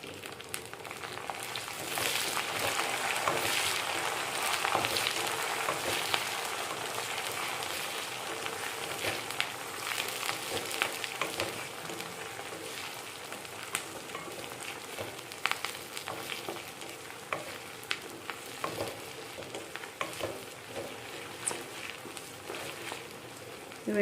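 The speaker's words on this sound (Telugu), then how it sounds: "వెండిరేలు బాగా ఫ్రై అవ్వాలి." Dried small prawns fry in an oil-filled pan for a bottle gourd curry, giving a steady, close sizzle with scattered sharp crackles and occasional stirring scrapes, continuous for over twenty seconds.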